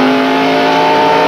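Race cars circling a flat track at the 1993 Slick 50 300, a sustained steady engine whine at full speed, loud and continuous with no gaps and no talking.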